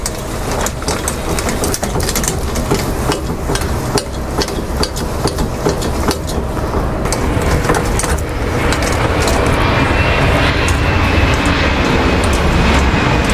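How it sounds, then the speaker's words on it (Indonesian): An aircraft passes overhead near a parked Daihatsu Gran Max campervan in Indonesia, making a loud, steady broadband roar that swells toward the end, with scattered sharp knocks mixed in. "Di sini banyak pesawat"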